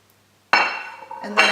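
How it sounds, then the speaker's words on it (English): Ceramic ramekins clink sharply into a baking dish for crème caramel, one clear knock followed by a second clatter about a second later, close and crisp. "we're going to get our ramekins and we're just going to pop them in here, straight into the dish."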